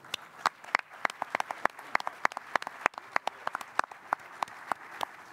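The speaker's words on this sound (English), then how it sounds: "I think we can all give him a big round of applause." A conference audience applauds Al Gore at a COP 21 side event on stranded assets, a steady patter of many hands clapping with sharp individual claps standing out, moderately loud and without speech over it.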